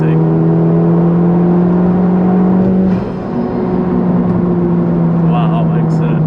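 A Honda Civic Type-R FK2 accelerates with a loud, steady intake roar and engine drone, close up, while a voice talks over it.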